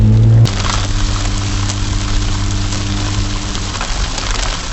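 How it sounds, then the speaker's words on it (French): Steady heavy rain pours down outdoors during a storm, a dense continuous hiss close by, with a low engine-like hum underneath and no talking. "Ça commence à bien pleuvoir."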